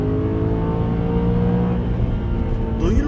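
A BMW M3 V8 engine idles with a deep, throbbing rumble and rich harmonic tones, then revs upward sharply near the end, loud and close.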